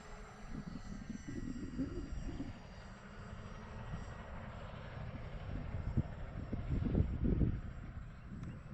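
A Dynam Grand Cruiser V2 radio-controlled airplane running on a 4S battery flies overhead, its electric motor and propeller giving a steady, moderately distant drone that swells and fades as it passes.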